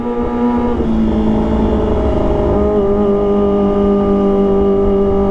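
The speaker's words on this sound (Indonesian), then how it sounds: "dan kita panasin motornya guys" Kawasaki ZX25R motorcycle engine warming up, a loud steady high-pitched whine that climbs briefly as it revs, then holds a constant buzzing tone close by.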